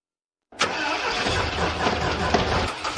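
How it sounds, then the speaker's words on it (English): Homemade motorbike engine, built by hand in a shabby hut, fires up from cold after half a second of silence and settles into a steady, loud, close idle with a continuous rumble. "Cold start successful. Idle stable."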